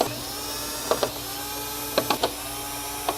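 Screws being removed from the mainboard of a Sony XBR-55X900H TV, a few brief mechanical clicks and ratcheting ticks in scattered short clusters over a steady low hum, close and quiet.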